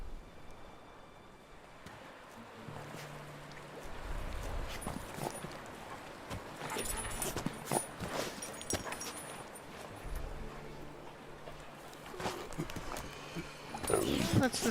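Horses galloping in The Witcher 3 game, a steady clopping of hooves mixed with game ambience and talk over it, ending in a louder burst of noise.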